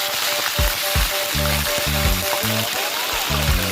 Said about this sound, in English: so over here I'm hotting my oil to fry my fish